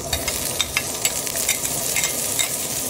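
Garlic and onion sizzle in a hot frying pan while being stirred, a loud, steady crackling hiss with scraping stir strokes close by and no talk.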